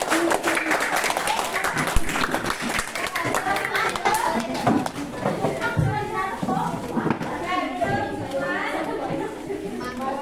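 A school class claps in a scattered, uneven burst of applause amid lively chatter and children's voices, with a teacher speaking over it.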